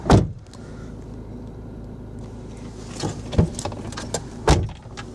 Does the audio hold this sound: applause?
no